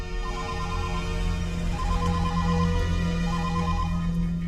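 An electronic telephone ringtone repeats its short melodic phrase steadily and clearly during a tense scene in a Telugu film, with no talk.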